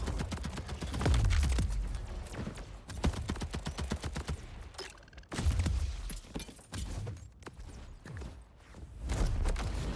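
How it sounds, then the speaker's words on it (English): Rapid bursts of gunfire from weapons in the shooter video game Borderlands 4, loud and close, with dense repeated shots in several volleys and short pauses between them. "The guns sound beautiful."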